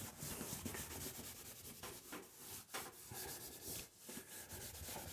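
Charcoal stick rubbed across paper while drawing a face, a steady close scratchy rasp with a few brief pauses, alone with no talk.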